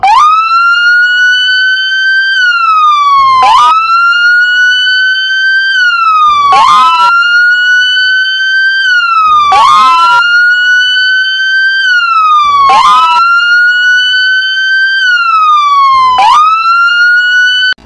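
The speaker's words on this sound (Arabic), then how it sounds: "هاشم الشرطة يا حبيبي، أنا رح أهرب." A police car siren in the PUBG Mobile video game wails loudly and continuously, cycling through rising and falling sweeps with brief bursty breaks roughly every three seconds, close and dominant.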